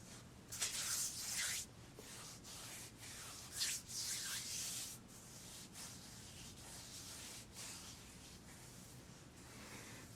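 Perfume drops being rubbed into the skin of a wrist, close and quiet: soft brushing skin-on-skin friction strokes in short bursts, easing into a gentle, steady faint rubbing.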